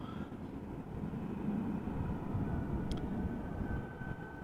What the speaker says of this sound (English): The first Delta A330 of the show, arriving from Minneapolis, flight